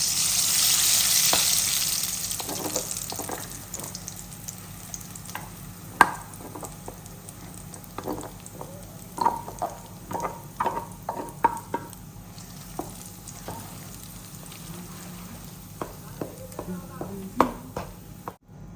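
A thick puree sizzling gently in ghee in a pan over a low flame while a spoon scrapes and stirs in irregular strokes, with a voice speaking at times.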